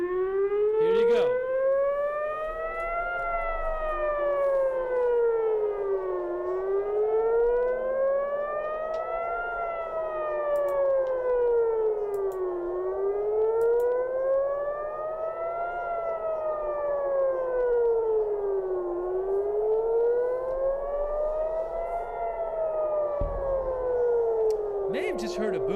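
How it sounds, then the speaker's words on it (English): Civil defense air raid sirens in Tel Aviv wail steadily for the whole stretch, their pitch rising and falling in slow, regular sweeps, loud and continuous, with a brief low thump near the end. "I really think you're going to hear sirens in a moment."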